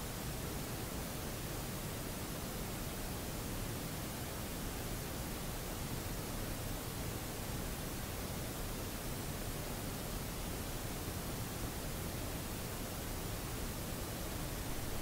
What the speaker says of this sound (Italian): Questo fruscio è il reale tono dell'ambiente campionato.